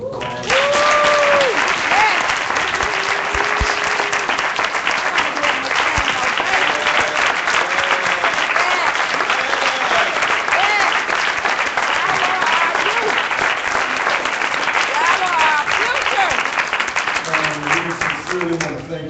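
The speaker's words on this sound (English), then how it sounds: "I want to give that panel another round of applause." A National Bar Association audience gives a panel a long, loud round of applause, dense crowd clapping sustained for nearly twenty seconds, with voices calling out and chatter audible through the clapping.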